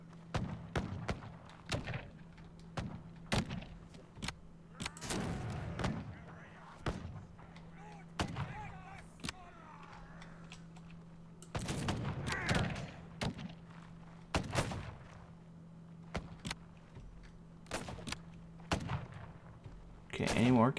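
Booming cannon shots in a pirate-era Caribbean strategy game, a rapid series of sharp blasts and thuds scattered through the battle, some close and loud, over a low steady hum.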